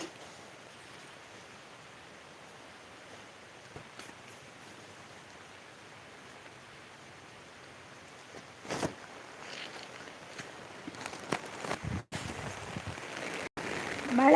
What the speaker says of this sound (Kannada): ಮಳೆ ಬರ್ತಾ ಉಂಟು ನೋಡಿ ಜೋರು